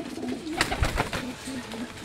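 Female pigeons cooing close by in a loft, soft repeated low coos with a few brief flutters and scuffles between the calls.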